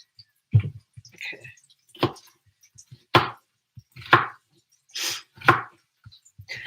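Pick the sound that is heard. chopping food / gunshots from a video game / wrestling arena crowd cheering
chopping food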